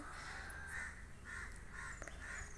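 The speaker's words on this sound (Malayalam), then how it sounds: "കാക്ക ഇങ്ങനെ വന്ന് തിന്നാണ് കേട്ടോ" Crows caw repeatedly in a rhythmic series of harsh calls over steady background noise, with a few sharp clicks, as they come to eat scattered corn on Shivaratri day.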